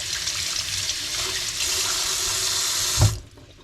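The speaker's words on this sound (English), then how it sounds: "So I just wash these off, inside and outside." Running tap water splashing over fish being rinsed inside and out, a loud close steady gush that cuts off near the end with a small clunk.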